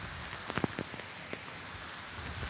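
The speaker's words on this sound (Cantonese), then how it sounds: "落雨啊！" Rain falls in the game Minecraft as a faint, steady patter and hiss, with a few soft taps standing out early on and no voices over it.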